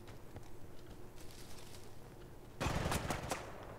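Gunfire in the shooter game Battlefield Bad Company 2, a dense burst of rapid shots that starts suddenly near the end and stands out loudly over quieter ambient game noise.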